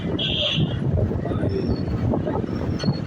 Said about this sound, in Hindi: देखिए ये लियाकत बाग, और ये इसका मेट्रो स्टेशन